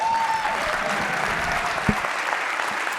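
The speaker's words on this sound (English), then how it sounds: "Keep that applause going." Applause from a lecture audience at an arts and public policy lecture, a dense steady wash of many hands clapping that fills the room evenly from start to finish.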